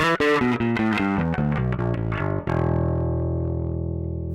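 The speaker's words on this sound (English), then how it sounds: "So if we dial up the gain, we actually get some breakup," A bass guitar plays a quick run of notes through gritty, overdriven preamp distortion on a DSM Humboldt Simplifier Bass Station, then lets a final note ring out and sustain, loud and up close.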